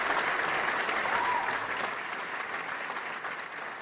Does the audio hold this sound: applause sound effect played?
yes